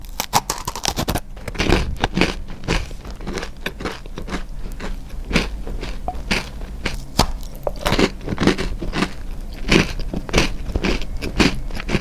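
Close, crisp bites and repeated crunchy chewing of a cinnamon pecan bakery pastry carry on steadily throughout with no talking, flaky crackles sounding at each mouthful.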